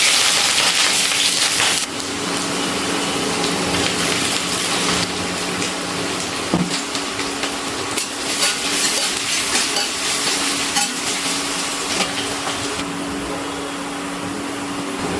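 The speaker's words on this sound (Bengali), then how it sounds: "এবার আমি এই তেলের মধ্যে দিয়ে দিচ্ছি পেঁয়াজগুলো আমি বেরেস্তা করে ভেজে নেব।" Sliced onions fry in hot oil in a pan on an induction cooker, giving a steady, loud sizzle with a hissing wash that continues throughout and occasional small shifts as they are stirred.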